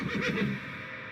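A single horse whinnies loudly and close, a shaky, quavering call lasting about half a second before it trails off into a steady background hum.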